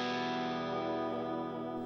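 Guitar amp simulator with reverb, a sustained distorted chord ringing out and slowly decaying into a reverberant wash, heard alone.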